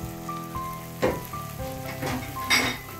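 A Portuguese refogado base for seafood rice sizzles in the pan with a soft crackling hiss, broken by a few louder bursts and clinks as it is moved about, with no talking.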